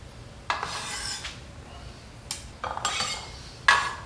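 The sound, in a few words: bench scraper moving chopped food into a bowl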